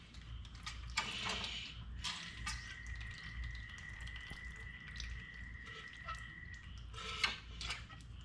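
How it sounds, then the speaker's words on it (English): Oil drains from a Honda CRF150R motorcycle fork as the fork is pumped, giving quiet dripping and trickling with soft sliding strokes and faint clicks over a low, steady background. "Just keep pumping it until you get all that oil out."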